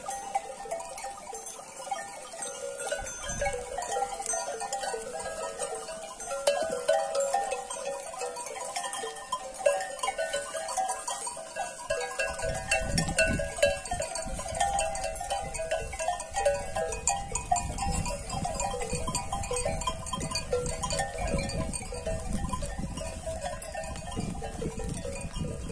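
Lambs and sheep bleat intermittently at a farm, with faint animal calls and a cowbell-like clank over a low background rumble that thickens midway; no talking.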